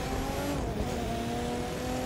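Sports car in The Crew 2 racing game driving toward the finish line, a steady loud engine drone with sustained tonal whine and faint tire noise throughout, no talking.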